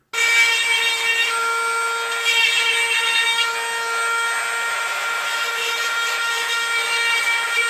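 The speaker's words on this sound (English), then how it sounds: "maybe get some of this flashing off with sandpaper, or even your Dremel tool" A Dremel rotary tool grinds flashing off a bobcat taxidermy mount with a steady high-pitched whine and layered harmonics, continuous for several seconds at close range with slight shifts in pressure and no speech.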